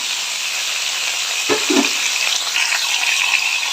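Tomatoes frying in a pan for a home-style toor dal with mango and amaranth greens, a continuous close sizzle with a brief stirring scrape partway through and no talk.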